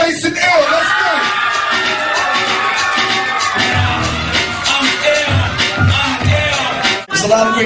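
A crowd at a July 2010 hip hop event cheers and yells for the act Nice and iLL, a loud sustained roar of whoops and shouts with a few hard thumps partway through, close and dense.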